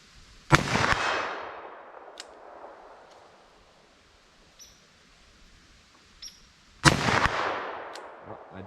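Two sharp, loud revolver shots from a 4-inch revolver fired single action with 10mm Hornady Custom rounds, spaced about six seconds apart, each followed by a long decaying echo outdoors, with faint clicks between.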